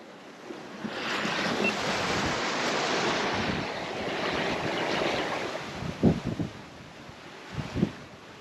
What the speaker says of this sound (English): now we're back to the swell of the ocean